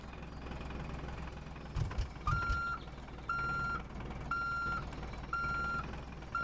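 Vehicle reversing beeps in the Roblox game RV Cooked: evenly spaced electronic beeps repeat about once a second over a low engine rumble, with a couple of thuds early on.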